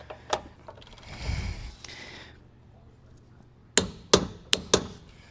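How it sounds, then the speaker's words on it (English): A hand tool works a bolt on farm equipment gauge wheel arms, with a low rustle early on, then four loud, sharp metallic clicks close by in quick succession, alone without speech. "I'm now going to torque this bolt to 160 foot-pounds"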